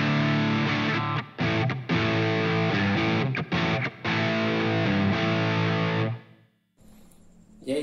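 Overdriven electric guitar played through a Zoom MS-50G multi-effects pedal, loud distorted chords and riffs with a few brief stops, ringing out and cutting off near the end, followed by faint handling noise.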